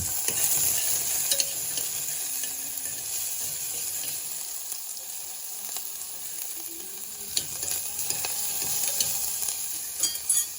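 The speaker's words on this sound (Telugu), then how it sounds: "ఉల్లిగడ్డలు కొంచెం తొందరగా ఫ్రై కావడానికి కొంచెం సాల్ట్ వేస్తున్నాను." Onions frying with salt in hot oil alongside mustard seeds, cumin and chillies, a constant near sizzle with light stirring scrapes and a few clinks, no voices.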